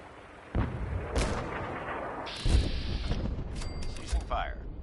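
Gunfire in the video game Fallout 4: several sharp, booming shots and bursts spaced across a few seconds, mixed with mechanical whirs and a robotic voice speaking.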